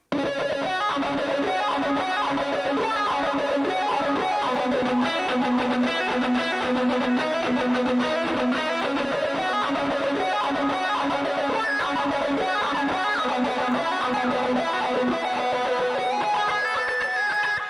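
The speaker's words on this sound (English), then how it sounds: "the next tone that we're going to talk about is what I call the talk box lead" An electric guitar plays a sustained, sliding lead through an envelope filter pedal, with a squelchy, talk-box-like filtered tone over a dense band backing.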